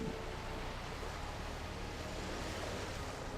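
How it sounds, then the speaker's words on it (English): Roiling waves of the Lotano Sea around the windswept island city-state of Limsa Lominsa in Final Fantasy XIV, a steady, even wash of surf with faint wind, continuous and unbroken throughout. "amidst the roiling waves of the Lotano Sea"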